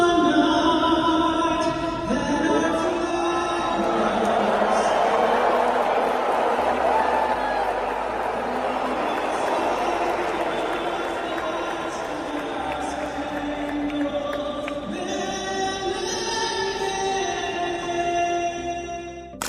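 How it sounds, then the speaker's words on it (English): A large US Open stadium crowd booing Trump, a sustained loud wave of jeers and crowd roar mixed with voices, swelling and easing over its length. "More loud boos erupting when Trump's face was shown on the big screen."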